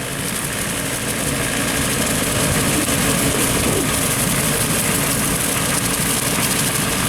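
A tractor driving a Woods 15 ft brush hog mower across a golf course, a steady, loud low engine drone with continuous mower roar that holds even and unbroken throughout.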